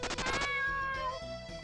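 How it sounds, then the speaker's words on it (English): A cat meows in a JoJo's Bizarre Adventure video game, a single drawn-out, wavering call followed by a shorter tonal cry, heard up close over a low game background. "By the way, this is my cat."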